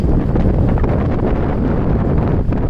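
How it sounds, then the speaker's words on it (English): Heavy wind pummels the microphone at a campsite on the Donald Lake loop in Temagami, a continuous loud rumble and roar, dense and unbroken throughout. "Okay, it's too windy."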